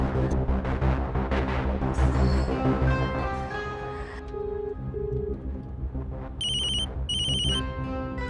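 A mobile phone plays its ringtone during a weekend trip: a steady melodic tune rings on for several seconds, close and clear, ending in bursts of bright repeated high beeps.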